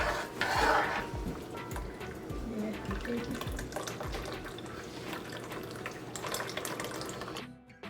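Milk poured into a pot of simmering rice for Guyanese sweet rice, a steady liquid rush with a brief splashy burst near the start, mixed with clinks of a pot and utensil and faint stirring, no talking.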